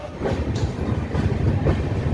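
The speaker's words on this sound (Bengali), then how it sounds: "ট্রেন ছেড়ে দিল 2 মিনিট দাঁড়ানোর পরে বর্ধমান থেকে" The Howrah–Prayagraj Vibhuti superfast express train (12333) departs Bardhaman station, rumbling along with a steady low clatter of wheels on track, loud and close, with no voices.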